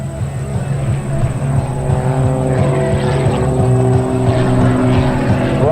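An aerobatic propeller airplane performs at an airshow, its engine a loud, steady droning roar with a strong harmonic buzz that rises and shifts slightly in pitch as it maneuvers nearby.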